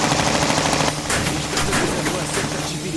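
Rapid automatic gunfire bursts from a helicopter combat sequence in a story-based choose-your-own-adventure video game, loud and repeated in quick volleys over engine-like drone, with voices briefly heard.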